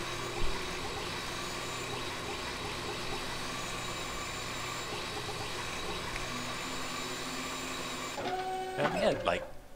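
A 3D printer runs in Resident Evil Code Veronica, a steady mechanical whirring and buzzing that continues throughout, with a few sharper clicks and a short burst of tones near the end.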